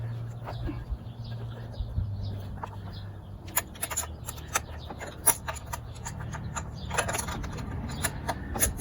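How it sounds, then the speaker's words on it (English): A hand ratchet works a nut loose on an outboard motor, a 115 hp Mercury or 7.5 hp kicker, giving scattered close clicks and short bursts of pawl ticking over a low steady hum, with no talking. "Just gotta get this nut off of here."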